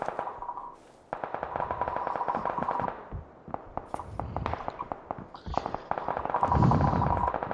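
Rapid bursts of automatic gunfire from a shooter video game, with several sustained volleys and short pauses between them, loud and close with no talk over it.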